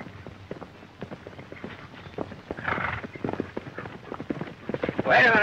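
Steady clip-clop of hooves on hard ground, rapid and close, with a horse's whinny or snort rising at the end.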